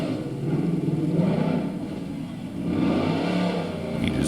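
A truck engine roars steadily as it climbs a hill at a race, the rumbling revs swelling and easing at a distance.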